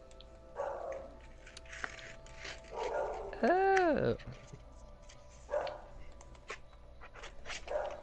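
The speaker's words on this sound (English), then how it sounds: "I want to know what my dogs are barking at." Dogs bark a few times, with one drawn-out howling whine in the middle; a person briefly speaks.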